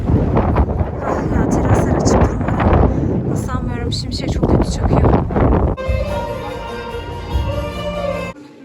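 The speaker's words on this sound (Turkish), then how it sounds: "dikkat et rüzgar var" Strong wind buffets the microphone with a constant roaring rumble, with voices partly audible beneath it.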